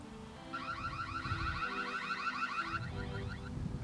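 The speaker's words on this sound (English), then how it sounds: "You can see we can trigger an audio alarm." A Reolink Altas PT Ultra camera's built-in speaker sounds its audio alarm, a rapidly warbling siren-like tone that runs for a few seconds at moderate volume before cutting off.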